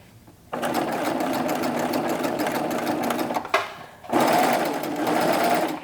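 A serger sewing machine stitches knit fabric in close, loud, steady runs, pausing briefly before starting up again for a second burst.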